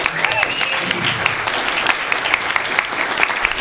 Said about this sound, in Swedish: Ge en till applåd till Charlie